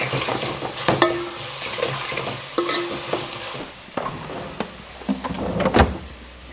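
Chopped onions with a little salt fry in a pan, giving a steady low sizzle broken by sharp scrapes and knocks of a stirring spoon against the pan. It is close, with no voices.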